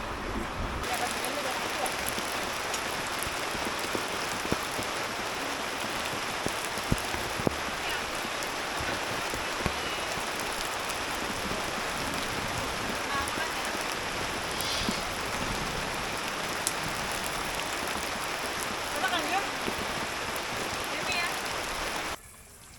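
Rain falls steadily on a pine-forest campsite, a dense, even hiss of drops that holds at the same loudness for over twenty seconds before cutting off at the end.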